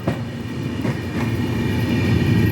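Capital Express passenger train on the Kamakhya–Siliguri route rolling along the rails, a steady close rumble with faint clickety-clack, running continuously and alone without voices.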